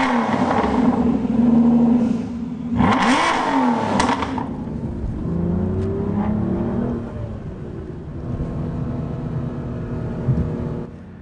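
A 2011 Aston Martin V12 Vantage sports car revs and accelerates on a drive, its engine roaring close and loud, rising and falling through gear changes, then settling into a steady cruising hum with no talking.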